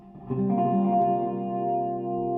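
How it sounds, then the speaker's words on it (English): Sustained electric guitar chord through delay pedals and plate reverb, notes ringing and smearing together into a long, shimmering tail. "I'm going to throw a plate reverb on the end to make it even more washy."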